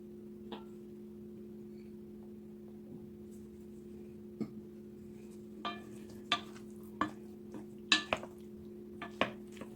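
Roasted eggplant, bell pepper and tomato salad with vinegar and fresh basil being tossed in a bowl, giving a handful of soft clicks and utensil taps that grow more frequent toward the end over a low steady hum.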